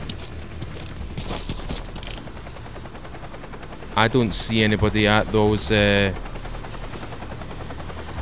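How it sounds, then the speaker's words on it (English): Helicopter flying in the game S.T.A.L.K.E.R. Anomaly, a steady rotor drone running throughout, with a voice talking briefly over it partway through. "I see the helicopter, in fact."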